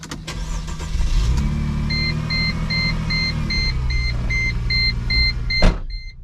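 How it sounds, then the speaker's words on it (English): A Mercedes SLK 350 engine starts and runs with a low rumble, while a warning chime beeps repeatedly and evenly overhead, ending with a brief loud knock near the end. "So I'm gonna start the car."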